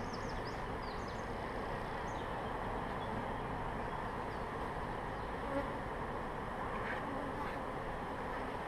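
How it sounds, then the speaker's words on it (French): Dense, continuous buzzing of many honey bees fills the clip at a steady level, close and unbroken, as bees are brushed off hive frames. "un petit coup de balayette pour pas emmener les abeilles à la miellerie"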